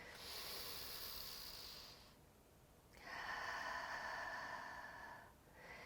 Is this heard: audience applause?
no